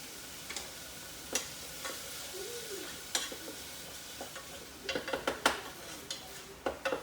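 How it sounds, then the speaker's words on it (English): Fresh sofrito sizzles quietly in a pot for vegan arroz con gandules with brown rice and pigeon peas, a soft steady fry broken by scattered sharp clinks and scrapes of a spoon against the pot. "put about 4 spoons of fresh sofrito in there"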